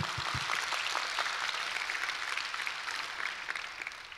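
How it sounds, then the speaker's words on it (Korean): A church congregation at a Thanksgiving revival service breaks into blessing applause, a brisk, fairly loud wash of clapping that fills the room and holds steady before easing slightly. "한번 여러분 축복 박수 한번 하시려면"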